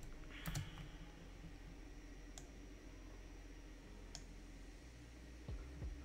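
Someone types on a computer keyboard in a Linux terminal, producing faint, scattered key clicks with a few sharper taps over a steady low hum.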